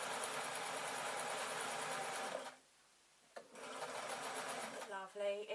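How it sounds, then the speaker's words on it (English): A sewing machine runs steadily while stitching over the seams of a large button-decorated shoulder bag. It stops briefly partway through, then starts stitching again, with a short voice near the end. "you can hear the slight difference in pitch when it goes over a seam"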